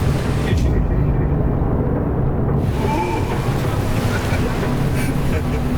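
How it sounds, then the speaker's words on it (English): An armored boat, the D3 Chaser 980, speeds across open water, its engine a loud steady roar mixed with wind buffeting the microphone and rushing spray throughout. "it's an armored boat, and I'm driving it"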